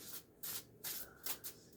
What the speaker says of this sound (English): we'll shuffle the deck for you.